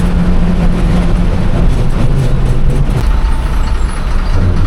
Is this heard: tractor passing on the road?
yes